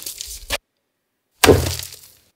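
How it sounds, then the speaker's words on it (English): Pumpkins smashed and sampled: a short crunching burst, a gap of silence, then a louder heavy splitting crash with a low thud that rings out and fades, all close and dry. "Let's do the same for the smashed pumpkins."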